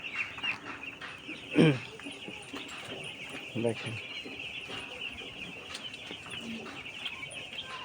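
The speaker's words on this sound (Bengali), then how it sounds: "এই হলো তিনতলার মুরগি" Five-day-old chickens on the third floor of a poultry house: a constant high, dense chorus of chick peeping, broken by a couple of louder bursts of activity, with someone speaking over it.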